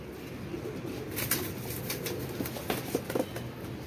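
Soft pigeon coos and low murmuring from several caged birds close by, with a few brief flutters and rustles near the end.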